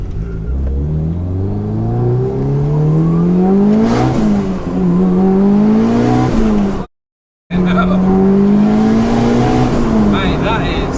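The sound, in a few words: high-horsepower car accelerating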